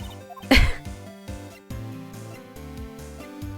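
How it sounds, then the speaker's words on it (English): A single loud, close sneeze bursts out over a background of steady video game music. "Oh, I just sneezed so bad."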